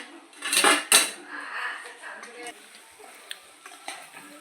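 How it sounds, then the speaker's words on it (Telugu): Dry-fried chicken tumbles into chilli chicken sauce in a pan, with loud metallic clanks and scrapes of a utensil at the start, then softer stirring and light sizzling as it is mixed. "మనం ఆల్రెడీగా ముందు మనం డ్రీ ఫ్రై చేసుకున్న చికెన్ని అందులో వేసుకుంటున్నాం. వేసుకొని కలుపుకోవాలి"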